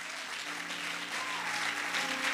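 Church congregation clapping and acclaiming during a sermon, a steady, dense wash of applause that swells slightly toward the end.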